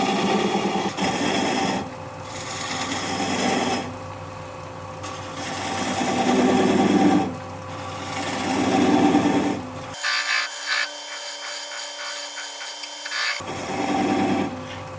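Black cherry wood spinning on a wood lathe, with a tool cutting a small nub down in rising and falling passes over a steady motor whine, then a quieter stretch with the cutting stopped.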